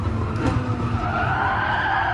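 Tires skid and squeal steadily as a race car's rear brakes lock in GT Sport, a continuous harsh screech over engine drone throughout.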